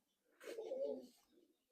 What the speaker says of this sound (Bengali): এই বাইরে একটা পায়রা ওই আসছে